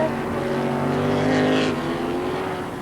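Formula 5000 race cars at Oran Park in 1979 roar past in a close battle for the lead, a steady, loud engine drone that swells and fades slightly, with no commentary over it.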